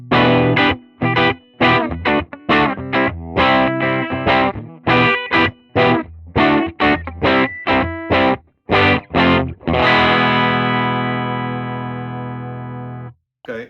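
A Harley Benton ST-Modern HSS electric guitar played clean through its full humbucker pickup, completely dry with no reverb: a series of short picked notes and chords with brief gaps, ending in a long sustained chord that rings out and slowly decays.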